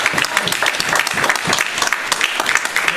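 A church congregation claps together in a steady, loud burst of applause that lasts the whole moment, with no voices rising above it.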